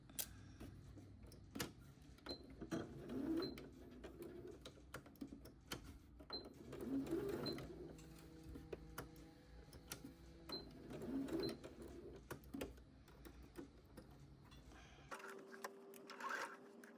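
A sewing machine bastes a seam on a summer dress, its needle stitching in quiet bursts of rapid ticking and whirring, stopping and restarting several times at close range, with faint talk around it.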